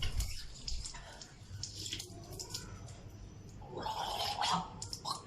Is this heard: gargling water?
yes